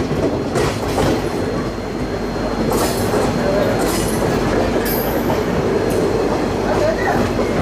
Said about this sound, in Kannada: ಕ್ರಾಸಿಂಗ್ ಆಗುತ್ತೆ ನಮ್ಮ ಟ್ರೈನ್ ಜೊತೆ.